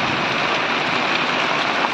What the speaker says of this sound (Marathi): पाऊस लय जोरात पडतोय,